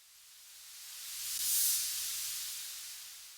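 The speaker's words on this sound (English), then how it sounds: "That's just Serum with a noise generator. I think it's like just white noise." White noise from a Serum synth noise generator with the low end rolled off, a steady airy hiss soloed on its own that swells gently in level toward the middle and holds.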